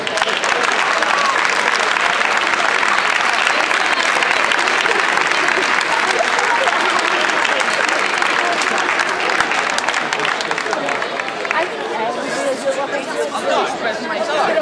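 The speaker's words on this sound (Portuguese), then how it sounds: "Um forte aplauso, por favor." A loud crowd at Gondomar SC's new football pitch inauguration cheers as a youth team is presented, with sustained clapping mixed with crowd chatter throughout.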